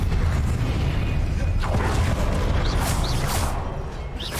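A Confringo fire spell explodes in Hogwarts Legacy, a loud booming blast with a rushing whoosh and crackling bursts that sustain for several seconds, up close and dense.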